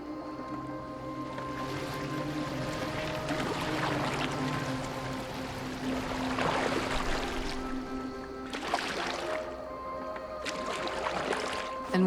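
Boat gliding over water in Assassin's Creed Valhalla, a steady wash of water and wooden hull sounds under a game music bed, with a few brief splashy swells rising toward the end.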